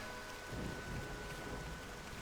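Steady, dense rain hisses through a thunderstorm in Xenoblade Chronicles, with a deep thunder rumble swelling briefly near the start beneath the continuous downpour.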